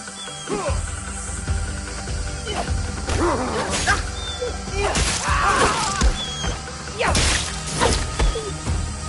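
A dog in the game Assassin's Creed Shadows lets out a series of yips and short barks mixed with whines, fairly close, over ambient game sound and occasional whooshes.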